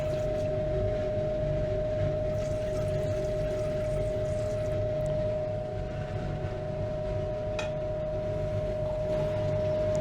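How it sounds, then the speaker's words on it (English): Distilled water poured over refined gold powder to rinse it, a steady close-up trickling and liquid rush with a constant tonal hum running underneath, no talking. "I will give it a rinse with some distilled water."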